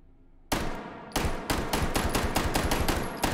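Flechette rounds fired from a gun in the Hot Dogs, Horseshoes & Hand Grenades VR game, a loud burst of about a dozen sharp shots in a steady, rapid rhythm after a short quiet opening.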